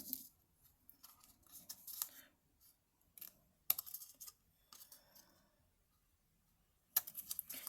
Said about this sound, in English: I'm going to cut these little tabs off.